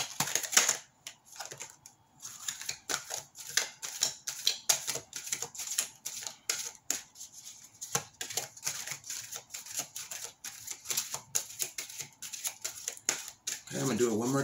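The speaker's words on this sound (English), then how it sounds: "I feel like one more shuffle." Angel guidance cards get shuffled by hand in a series of quick, crisp riffling and flapping bursts, close and fairly quiet, with a short louder flurry at the end.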